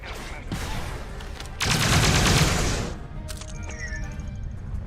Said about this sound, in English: let's try to throw some grenades at this thing